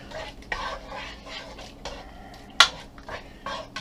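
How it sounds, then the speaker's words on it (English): A spoon stirs ragu in a pot with the heat turned off, scraping swishes in an irregular rhythm plus one sharp metallic clink, heard up close with no talking. "let's turn off your fire and just keep it stirring"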